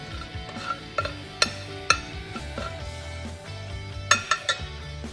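A spoon working tomatoes and olive oil around a bowl, with soft stirring and scraping punctuated by several sharp clinks and knocks against the dish, fairly close and quiet.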